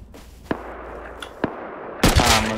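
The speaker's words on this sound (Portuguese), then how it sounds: "Ah, tô atirando." Gunfire in the video game Rust: a few sharp single shots spaced apart, then a louder burst of blasts near the end, close and punchy over quiet background.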